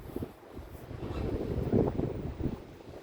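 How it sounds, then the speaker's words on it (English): Strong wind buffeting a camera microphone outdoors at a fence repair, a low rumbling roar that gusts and swells unevenly across the whole stretch, with no voices. "The wind is really bad"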